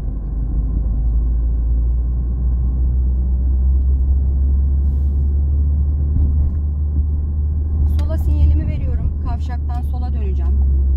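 A car pulls away gently on a driving test course after the clutch is released, a steady low engine rumble at moderate level, with a voice talking briefly near the end.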